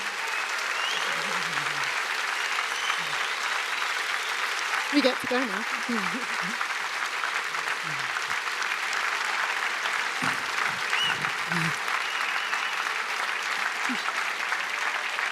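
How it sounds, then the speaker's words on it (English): Sustained audience applause for astronaut Buzz Aldrin at a live talk fills the whole stretch, dense and steady, with a few voices speaking briefly over it. "Can everyone give a huge round of applause for an American hero"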